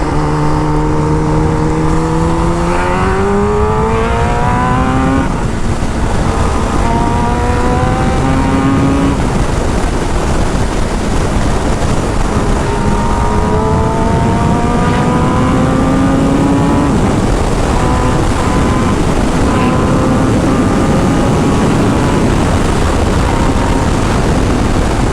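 A Kawasaki ZX10R sport motorcycle in medium power mode revs hard and climbs through the gears in repeated rising sweeps, loud and close, with steady wind rush underneath.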